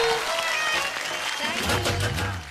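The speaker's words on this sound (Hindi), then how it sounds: "तो एक बार जोरदार तालियां" An audience at a stage show breaks into loud applause, a dense rush of clapping that stays steady, with talking and crowd noise rising beneath it toward the end.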